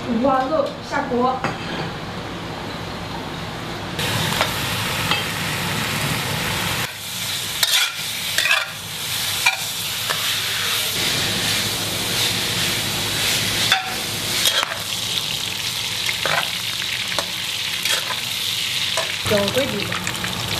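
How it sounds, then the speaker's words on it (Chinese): Pork belly hits a hot wok over caramelised sugar for braised pork, sizzling loudly and continuously while a spatula scrapes and stirs in repeated strokes, with occasional voices in the background. "五花肉下锅。"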